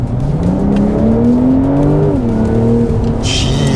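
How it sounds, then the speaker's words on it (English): A Porsche engine pulls hard around the Sepang race circuit, heard from inside the car as a loud, continuous droning note that climbs in pitch, eases briefly, then keeps building. "I can hear the sound of the engine behind me."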